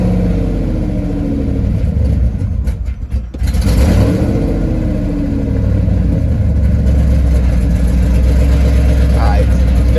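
Loud 1998 Pontiac Firebird Formula engine drones steadily for the whole stretch, a deep low rumble with a brief dip and swell partway through, heard on a ride to the muffler shop before the exhaust is fitted.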